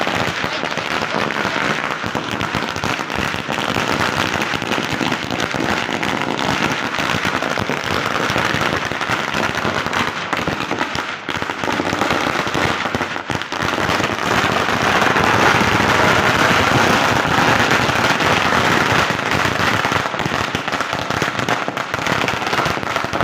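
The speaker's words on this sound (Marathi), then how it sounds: "काही आता दिंडी आलेली आहे, फटाके बिटाके फोडून झालेले आहे." Firecrackers burst during a dindi procession in a Marathi town, a dense, continuous crackling barrage of rapid pops that stays loud throughout.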